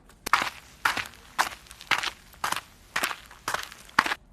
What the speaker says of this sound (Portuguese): se a gente simplesmente colocar esse efeito sonoro dos passos aqui, ele não fica sincronizado